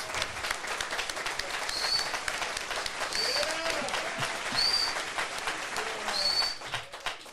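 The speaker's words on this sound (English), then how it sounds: "Give all of our candidates a big round of applause." An audience gives a round of applause for political candidates at a forum, fairly distant, moderately quiet steady clapping, with a few high bird-like chirps and faint voices mixed in.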